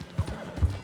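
Horse hooves clip-clopping in the video game Red Dead Redemption 2, two distinct close hoof thuds in under a second, quick and rhythmic, with no neigh clearly standing out.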